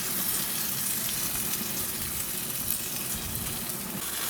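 Lamb kebabs sizzle steadily on a grill, a dense, even crackle and hiss held at a constant level for several seconds with no voices over it.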